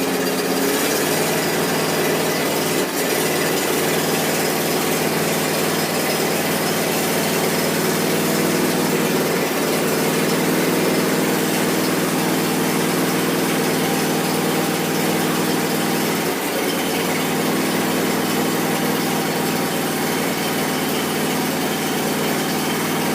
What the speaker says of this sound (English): We'll run the engine briefly to pump oil into the new filter